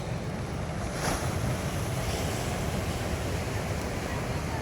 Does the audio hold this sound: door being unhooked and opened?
no